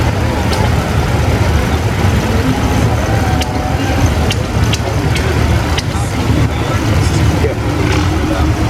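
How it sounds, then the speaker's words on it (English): A 1958 John Deere 420 tractor runs with a steady engine rumble at an outdoor steam and gas engine show in Baraboo, Wisconsin, mixed with crowd noise, faint speech and scattered clicks throughout. "Next up is a 1958 John Deere 420 tractor."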